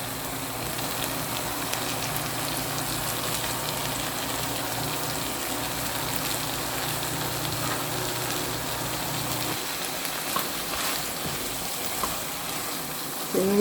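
Green pepper frying in a pan for egg sauce, a soft, steady sizzle throughout, fairly quiet and close, with a low hum dropping away partway through and faint clinks near the end.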